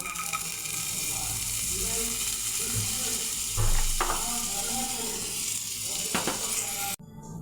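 Butter sizzles in a pan already heated for a cheesy omelette, a steady close hiss running almost the whole time with a few clinks and knocks, before cutting off abruptly near the end.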